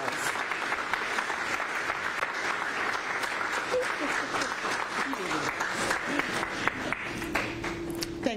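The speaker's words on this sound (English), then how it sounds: "can we give her a round of applause?" An audience at a transit center grant announcement gives a sustained round of applause, steady dense clapping with scattered voices and brief tonal sounds near the end.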